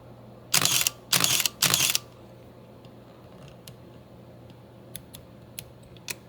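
Three crisp, loud shutter firings from a Minolta Maxxum 5 film SLR in quick succession, each a short mechanical burst, followed by faint small ticks and clicks in a quiet room.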